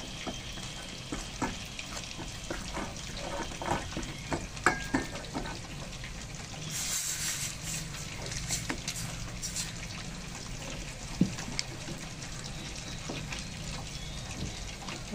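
Water poured into a pan of frying chicken seasoned with calamansi, giving a steady, dense sizzle and bubbling with a brief rushing pour in the middle, close and continuous.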